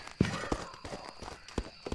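Ghost footsteps in the video game Phasmophobia: a series of faint, irregular thudding steps, roughly five or six over two seconds, heard alone against quiet background noise.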